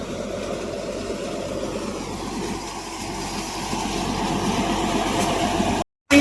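A tractor-driven soybean threshing machine runs in a field, a loud, continuous low rumbling drone with mechanical churning that holds steady throughout, and no voices.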